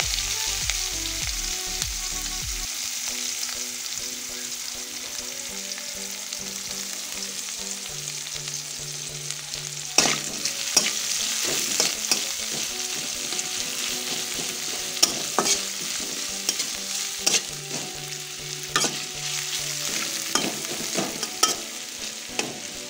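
Green chili, chopped onion and whole cumin sizzle steadily in a pan of hot oil beside brinjal, a close, continuous frying hiss broken by occasional stirring scrapes, with no speech.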